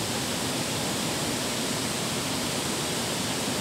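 A river flowing near the Anini area on the China border in Arunachal Pradesh, a steady, dense rushing roar of water, loud and unbroken throughout with no voices.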